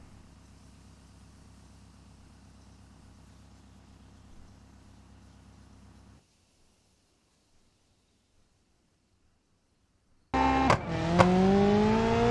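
A video-game car on a drag run with tuned gear ratios: a faint engine drone, then near silence, then a sudden loud launch with engine revs climbing through gear changes.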